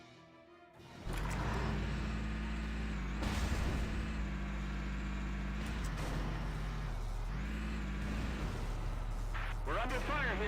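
Combat in the video game Valkyria Chronicles: a loud, steady engine-like drone with sharp gunfire cracks and bursts over it, continuous and dense throughout.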